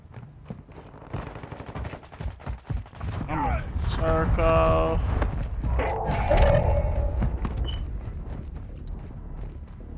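Dense automatic gunfire from Call of Duty MW2 Resurgence, loud rattling bursts layered with game voice callouts and other battle noise throughout.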